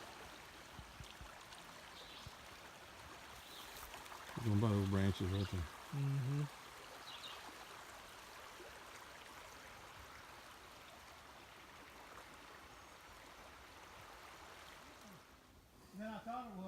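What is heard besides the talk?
fast-flowing creek in high water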